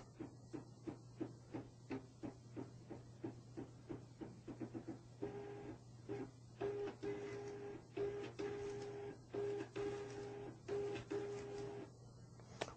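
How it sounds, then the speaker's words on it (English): A label printer feeds several labels while calibrating its gap sensor, giving a regular run of short mechanical clicks and whirs that grow longer and buzzier toward the end, with no talking. "You'll see it feed several labels so that the sensor can detect the gap."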